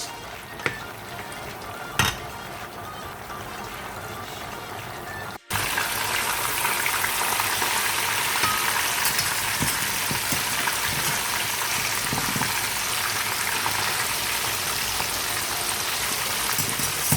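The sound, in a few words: fish frying in a pan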